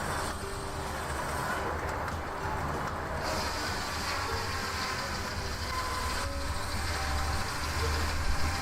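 Old stationary engine at a thresher and hobby reunion, running steadily and smoothly at idle with a soft, even throb under outdoor background noise, fairly faint and continuous, no talk.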